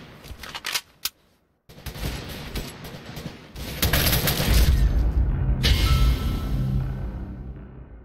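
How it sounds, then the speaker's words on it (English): Rapid gunfire and booming shots in a Roblox shooting game, a few sharp cracks early, then a dense, loud sustained barrage of shots and blasts that fades toward the end. "Give me a sniper. Holy crap, I'm gonna shoot."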